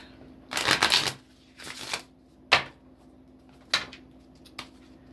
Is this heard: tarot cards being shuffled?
yes